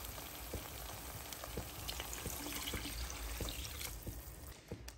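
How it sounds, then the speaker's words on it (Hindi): Water poured into a pan of masala frying in oil for a roadside-style sherva, a steady hiss and sizzle with splashing and bubbling that carries on for several seconds, close by, with no talk. "अब हम इसमें पानी डाल देते हैं।"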